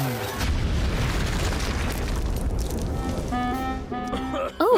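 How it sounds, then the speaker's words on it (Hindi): Toys blown up with a loud explosive boom at the start, followed by dense crackling rumble, then excited voices speak over the fading debris noise. "ओह, बढ़िया धमाका था।"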